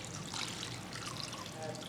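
Broth poured into a pot of vegan curried cauliflower soup, a steady soft trickling and splashing of liquid that stays at an even level throughout, with no talk.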